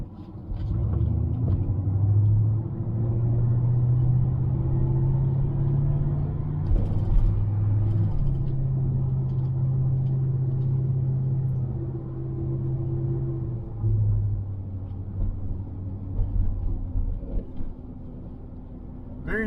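A car drives along Stewart Avenue and Metropolitan Boulevard on a quiet Sunday, its engine a steady low drone from inside the cabin that shifts in pitch with gear changes over road rumble.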